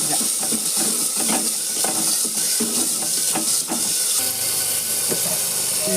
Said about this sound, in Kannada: ಎಲ್ಲ ಕಲಸಿ ಫ್ರೈ ಆಗಬೇಕು